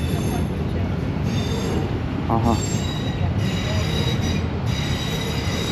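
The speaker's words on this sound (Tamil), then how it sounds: "இது ஒரு ட்ரெயின்" A train rumbles steadily past close by on a track in London, with high metallic wheel squeal ringing over the loud rolling noise throughout.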